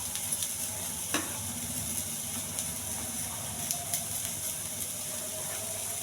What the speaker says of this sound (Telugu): టమాటా మొత్తం బాగా వేగించాలండి.